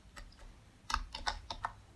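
Close keystrokes on a computer keyboard while typing HTML code, several separate clicks and short quick clusters spread irregularly over a couple of seconds, with no speech.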